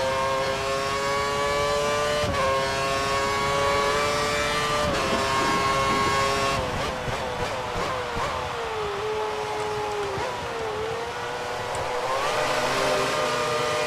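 A Formula 1 race car engine in F1 2013, with high-pitched whining revs that climb and drop through gear shifts, loud and continuous, with no speech.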